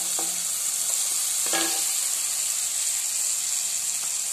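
Coriander powder and chicken masala spices fry in a pan for Assamese titaphul khar, giving a steady close sizzle with a few sharp stirring scrapes near the start and middle; no one speaks.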